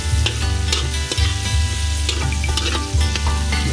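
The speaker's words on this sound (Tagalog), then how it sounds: "pamamantikain natin yung taba natin" Pork fat renders and fries loudly in a pan, a steady crackling sizzle broken by stirring scrapes and spatula knocks, close and continuous with no talking.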